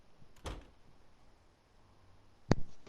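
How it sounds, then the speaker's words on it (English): In the video game DayZ, a door is unlocked with a faint click, then a sharp, close mechanical clack a couple of seconds later, over quiet background ambience. "No, I was unlocking it."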